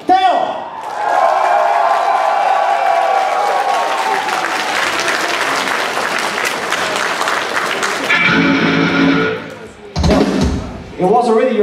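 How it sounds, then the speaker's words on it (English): Crowd at a live metal concert in Saint Petersburg roaring and cheering loudly and steadily for most of the clip, then breaking off into shorter bursts near the end. "I want to hear the biggest cheer up for our Teo!"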